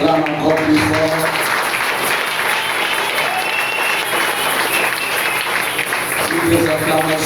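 A church congregation applauds and cheers loudly and steadily throughout, with crowd voices and a faint tonal background sound woven into the dense clapping.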